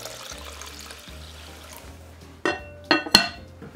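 Water is poured over washed, drained rice in a Hario rice cooking pot for nursery-school rice porridge. A quiet lead-in gives way to three quick splashing bursts close by.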